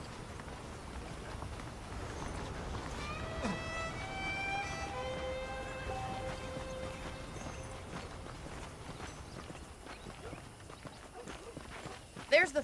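Horse hooves clop at an easy walking pace in the video game Red Dead Redemption, with a voice speaking over them through the middle of the recording.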